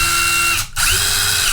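A Craftsman V20 brushless cordless impact driver running free with the trigger pressed, a loud close whine that dips briefly as the trigger is released and pulled again, then keeps going steadily with no talk.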